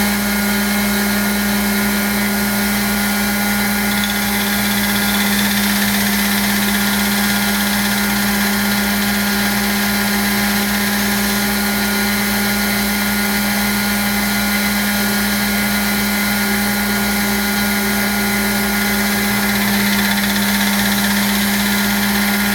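A knife-making belt grinder running a 400 grit aluminum oxide belt gives off a loud, steady motor whine with a strong, constant hum throughout and no talking.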